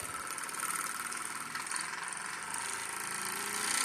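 A DC motor-generator is run on a low supply voltage, giving a faint, steady mechanical whir with a thin high whine that builds slightly as it spins, with no talking.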